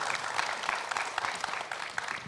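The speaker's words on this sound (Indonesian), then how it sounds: "Kasih tepuk tangan dong Ibu Bapak sekalian." An audience of men and women claps together for a woman invited on stage, dense and lively applause that stays steady and fairly close for the whole stretch.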